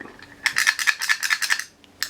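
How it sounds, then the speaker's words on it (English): Rapid plastic clicking from the ratcheting legs of a vintage Star Wars Gonk power droid toy, a close, dry rattle of about a dozen quick clicks in a burst lasting over a second. "get that clicking, then you know the legs are good"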